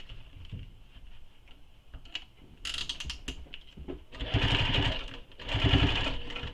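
A home sewing machine runs in short bursts and then longer steady runs, top stitching along the flattened edge of a fabric quiver sling, its motor whir and needle chatter close and moderately loud with quiet pauses between.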